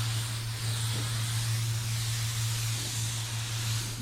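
Spray gun laying down a fine metallic basecoat at 27 psi, a steady unbroken hiss of atomized paint over a low constant hum, alone with no voices throughout.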